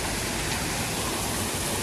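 An indoor waterfall inside a large airport terminal cave feature, a loud continuous rushing roar of falling water heard up close with no pauses.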